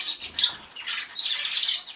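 An American Singer canary in a cage sings in a rolling, roller-canary style, a close, steady stream of high trills and chirps that runs the whole time with only brief dips and no talking.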